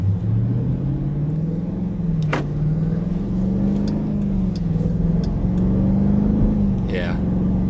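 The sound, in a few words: 2018 Dodge Durango SRT exhaust accelerating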